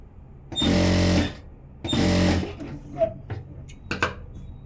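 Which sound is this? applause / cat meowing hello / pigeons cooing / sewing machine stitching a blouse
sewing machine stitching a blouse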